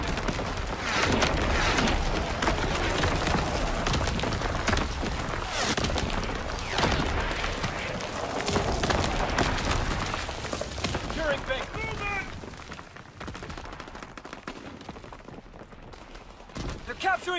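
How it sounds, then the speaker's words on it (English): Incoming enemy artillery in Call of Duty WW2: a loud, continuous barrage of booming blasts layered with dense gunfire, with in-game voices calling out over the din. "Incoming enemy artillery. Get to cover."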